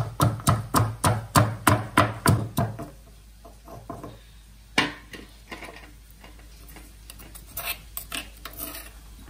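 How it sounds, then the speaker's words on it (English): Green chilies are pounded in a mortar with a steady run of about ten sharp, rhythmic thuds, then slower scattered knocks and scraping grinds follow, close and clear with no talking. "we are pounding these green chilies here."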